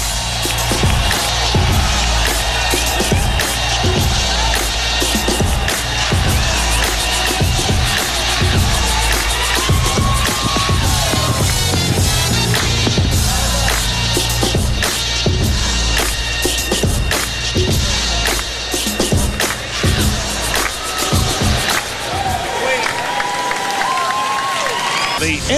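Arena crowd at the 2009 NBA All-Star Game claps and cheers loudly and continuously, a dense steady roar with scattered whoops under amplified music and voices.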